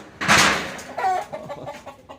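A chicken clucks close by, a burst of sharp cackling followed by a few shorter throaty clucks.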